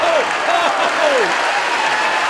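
About 2,200 Irish wrestling fans at the ScrapperMania 4 show applaud and cheer on their feet after Matt Riddle's win over Will Ospreay, a loud, dense, continuous roar of clapping with a voice over it.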